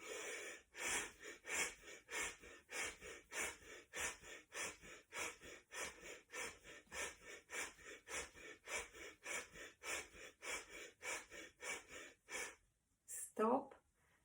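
Rapid rhythmic breathing during a yoga breathing exercise, about two dozen sharp, even breaths in a steady pulse, close to the microphone, ending in a pause and a brief longer breath.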